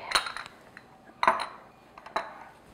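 Metal cake pan being shifted across a kitchen counter while blueberry cake is prepared, giving three distinct clanking scrapes with short pauses between them, close and fairly loud, with no talking.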